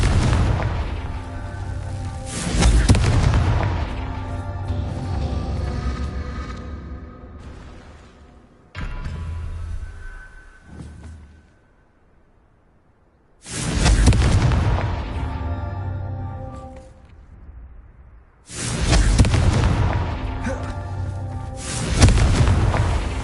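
Confringo blasting spells from a wizarding video game burst out as three heavy, booming explosions spaced several seconds apart, each a loud broadband blast with a rumbling tail fading into near silence.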